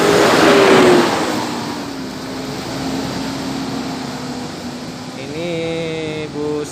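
A Rapi intercity bus with Navin Arjuna bodywork, arriving from Medan and departing for Palembang, holds a steady engine drone with a loud rush at first, then a rising engine note near the end.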